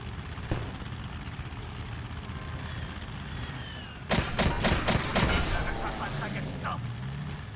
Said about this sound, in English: Guy's taking pot shots.